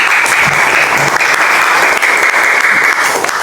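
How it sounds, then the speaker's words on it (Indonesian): Students in a classroom applaud a classmate for a correct answer, a loud, dense and steady burst of clapping that runs unbroken throughout. "Beri tepuk tangan kepada Alif"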